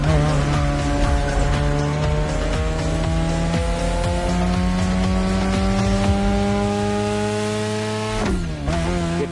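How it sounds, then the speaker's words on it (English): A car in the racing game The Crew Motorfest drifts through sharp turns, its engine droning loud and steady with a rising pitch, tires squealing under it, then a quick shift near the end. "Turns are sharp. You gotta drift through these, Shingo."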